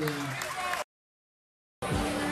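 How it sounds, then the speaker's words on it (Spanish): Loud applause and crowd noise at the Haras El Remanso horse auction in 2015, a dense roar broken by a full second of silence before it returns at the same level. Voices mix into the noise. "un aplauso fuerte"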